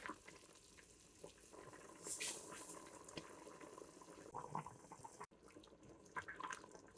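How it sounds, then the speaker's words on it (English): Water pours into a Ninja Foodi pot holding simmered chicken and rice, a faint steady trickle and splash close by with small drips and clinks, no talking. "So I'm just adding in the water."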